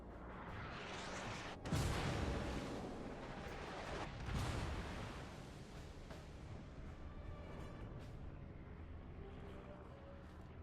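Battleship salvos firing in a naval combat game, North Carolina, heavy booming blasts with long rumbling tails, a big one early, another mid-way, then fainter distant thuds, beneath low game ambience.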